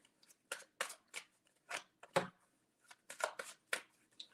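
A deck of tarot cards is shuffled in a short series of crisp riffling bursts, about a dozen quick papery flutters close to the microphone, with brief silences between them and no talking.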